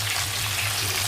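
Potatoes frying in ghee give a steady, even sizzle that holds close and constant from start to finish, with no voice over it.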